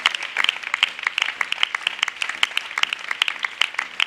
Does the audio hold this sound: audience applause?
yes